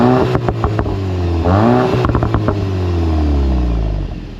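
A 2025 VW Golf GTI S engine revs up loudly and close by, rising and falling through several sharp pulls before settling back to a steady hum, with no talking.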